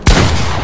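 Gunfire in the video game Fortnite during a jump, a single loud sharp burst of shots that cuts in at once and then rings out in a dense, noisy tail.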